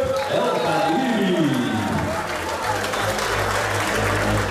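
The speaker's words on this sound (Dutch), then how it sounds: "Applaus is voor mij." Crowd applause and cheering for the winner of a Road2Victory kickboxing bout, loud and continuous, with a voice speaking over the noise early on and a low steady hum underneath.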